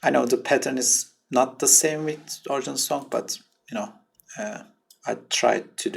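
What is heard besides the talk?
No distinct noise like a dog, phone or traffic.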